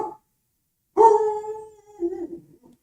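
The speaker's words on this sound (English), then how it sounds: "Dean's howling, that's it." A dog lets out one drawn-out howl, loud and close, that wavers and tapers off over about a second and a half after a short yelp.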